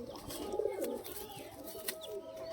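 A Madrasi high flying pigeon in a Kolkata-area loft gives low, rolling coos close by, with faint handling rustles and background noise and no talk.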